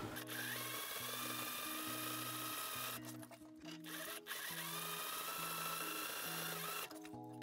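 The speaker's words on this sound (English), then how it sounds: "So I'm just gonna top stitch next to the eyelets and then 5 millimeters next to that." A sewing machine runs top stitching beside the eyelets of a corset, its motor whirring in steady bursts with brief pauses between runs, close and loud throughout.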